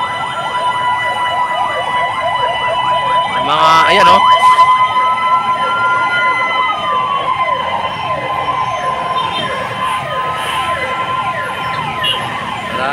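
Several fire trucks race past a pier-area fire in Parola through traffic, their sirens wailing and yelping loudly and nearby, while a voice speaks briefly.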